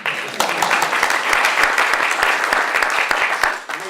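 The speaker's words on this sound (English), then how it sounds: "I cut them off on applauding you" Dense audience applause at a Warrior-Scholar Project gathering, many hands clapping close together in a steady, full burst that carries on throughout, fading slightly at the end.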